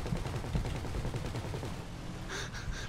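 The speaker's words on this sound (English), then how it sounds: "Why does he still want to shoot?" Gunfire in GTA V, a dense stream of rapid shots over a busy game soundscape, loud and continuous for the full stretch with no voices.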